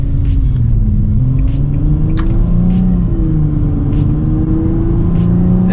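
Infiniti G35 with its muffler removed cruising along at sunset, a loud, steady low exhaust drone that rises and falls gently with throttle, constant throughout and with no talking.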